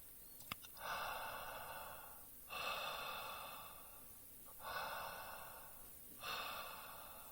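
Slow, steady breaths drawn and released through the mouth with the nostrils held shut, four long airy strokes close up in a quiet room, with no talking.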